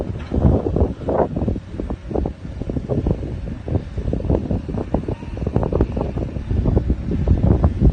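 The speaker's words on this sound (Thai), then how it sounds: "รู้สึกจะเย็นๆหนาวๆนะครับลมแรงมาก" Strong, cold wind buffets an outdoor spot during weed clearing, a loud continuous roar of gusts striking the microphone with rustling throughout.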